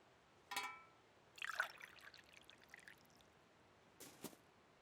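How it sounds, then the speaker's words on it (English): Water poured onto cabbages in a garden bed, with a short splash, then a longer uneven trickling pour, and a final brief splash, soft and close. "Here, you can start watering the cabbages"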